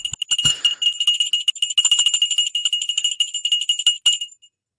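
A bright stock market closing bell rings repeatedly in quick succession, loud and close, with a dense metallic shimmer that carries on for several seconds before stopping.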